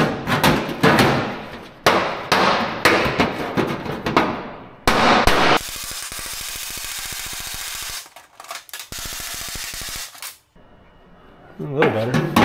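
Sharp metal hammer blows ring out in bursts on a 1949 GMC roadster body panel, close and loud, broken by a stretch of steady buzzing tool noise, with a voice talking between strikes.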